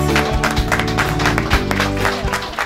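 Audience applause at a trail running event's charity presentation: a loud, dense, steady wash of clapping from a crowd that fills the whole moment, with voices mixed in underneath.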